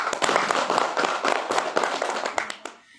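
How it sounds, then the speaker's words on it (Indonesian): An audience at a business meeting claps together, a dense crackle of many hands at close range that holds steady for about two and a half seconds before thinning and fading out. "Kasih tepuk tangan untuk kita semua."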